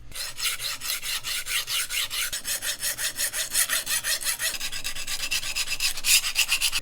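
A vintage knife blade is ground by hand on an Atoma 140 diamond plate, making a rhythmic, rasping back-and-forth scrape in quick regular strokes, loud and close with no voices.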